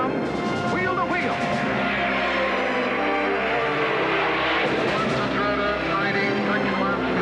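Early-1960s USAC stock cars race wheel to wheel on the Milwaukee oval, a continuous loud engine roar with passing surges, under steady commentary.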